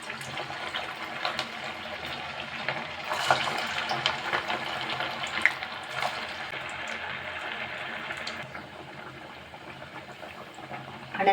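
Sago vadas frying in hot oil over a medium flame, a steady close sizzle and bubbling hiss that holds throughout and thins slightly near the end.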